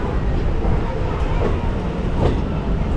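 A passenger train from Jalandhar rolls slowly over many track crossings on the approach to Amritsar station, a loud continuous rumble from inside the carriage with faint rhythmic clatter of wheels over the points.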